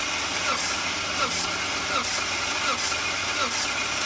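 A 2004 BMW 325Ci E46 with the M54 engine, overheated and suspected of a head gasket fault, cranks steadily during a compression test, an even pulsing churn of about six strokes with a voice briefly present.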